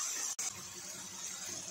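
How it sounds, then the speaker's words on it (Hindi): Steady splashing water pours in a continuous stream into a cooking pot of dum aloo, close by, with a brief break near the start and then a constant hissing flow. "थोड़ा सा पानी डाल दिए"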